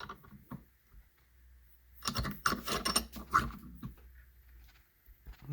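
Bearing pressed onto a shaft for a Bobcat T108 trencher using a socket on the inner race, heard as a few scraping, ratcheting metal clicks that thicken into a burst of grinding mechanical noise midway.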